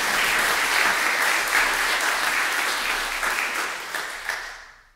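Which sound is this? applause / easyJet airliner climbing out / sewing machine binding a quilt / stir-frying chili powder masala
applause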